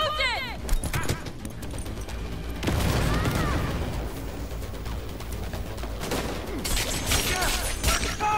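Bursts of gunfire crackle in the video game Cyberpunk 2077 amid a chaotic firefight, with rapid shots and booms over dense game noise and several voices talking and shouting throughout.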